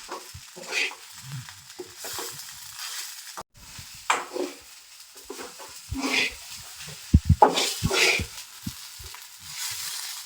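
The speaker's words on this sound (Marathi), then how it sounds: "हे डबल झालेले आहेत आळीव. व्यवस्थित त्याला मिक्स करून घेऊया." Soaked garden cress seeds are stirred in a pan with uneven scraping and soft squelching strokes, a faint sizzle beneath and occasional sharper knocks, close by.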